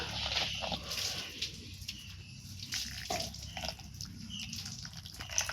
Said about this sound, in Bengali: সুজিটা একটু গরম আছে সেই গরম অবস্থায় আমি এখানে জল দিয়ে দেবো